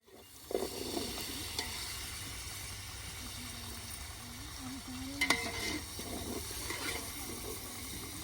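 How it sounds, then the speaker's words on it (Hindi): Tomatoes cook in a pan with turmeric, salt and spices, giving a soft continuous sizzle with occasional stirring scrapes and clinks, close and moderately quiet. "इसमें डाल देते हैं टमाटर, और टमाटर को भी अच्छे से पका लेते हैं"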